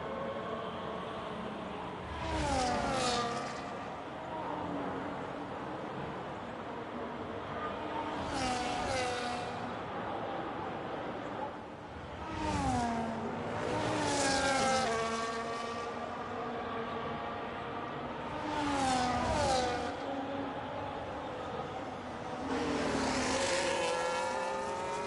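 Formula 1 race cars in the F1 25 video game at the Austrian Grand Prix scream past in repeated waves, their high engine whine rising and falling in pitch with each car that approaches and passes, over a constant roar.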